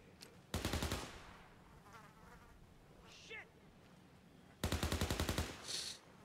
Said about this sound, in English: I'm being shot from somewhere